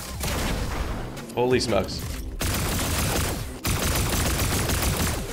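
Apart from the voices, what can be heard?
pulse rifle gunfire in the video game Fortnite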